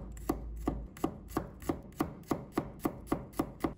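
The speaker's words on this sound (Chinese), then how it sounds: "把它切成片" Knife chopping a head of garlic into slices on a cutting board, about fourteen crisp, evenly spaced chops in a steady rhythm, close and clear with no talking.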